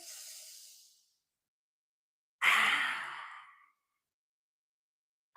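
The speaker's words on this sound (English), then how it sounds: "Inhale, exhale, keep going." Slow, deep breathing during a seated chair yoga session: a fading exhale, a pause, then a long strong breath out, close and alone in silence.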